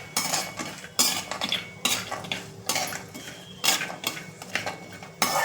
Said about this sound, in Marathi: आता हे मी बदाम टाकत आहे हे जरा परतवून घेत आहे